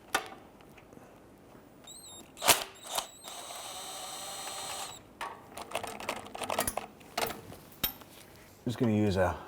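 A 13mm socket on a long extension with a swivel works loose the two starter nuts above the front axle of a 1999-2004 Jeep Grand Cherokee, giving close metallic ratchet clicks, clanks and scrapes in irregular bursts.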